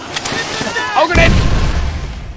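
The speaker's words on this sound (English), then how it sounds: "Oh, grenade!" A grenade goes off in a video game: a deep, heavy boom rolls in about midway and lingers as a low rumble, under a person talking over the game.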